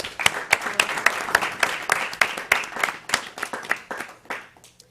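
Steady applause from a crowd at a youth commission meeting, many hands clapping loudly and continuously for several seconds before tapering off.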